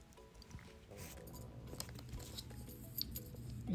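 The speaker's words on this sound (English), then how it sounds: "Let's remove this paper." Protective paper peeled off new iPad Pro 11-inch packaging, soft close crinkling and tearing rustles with small scratchy bursts, quiet and continuous.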